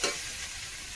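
A pan of potato and soybean curry, with spices fully sautéed and just about to have water added, sizzles and crackles briefly up close, a short burst of frying noise with a stir at the start.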